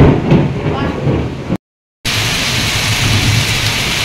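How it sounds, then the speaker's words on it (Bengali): Heavy thunderstorm pounding down at a home in the late afternoon, a dense roar of rain with rumbling thunder, loud and continuous, broken by a brief half-second gap of silence before the downpour resumes. "কত জোরে ঝড় হচ্ছে আমাদের এখানে, প্রচণ্ড ঝড় হচ্ছে"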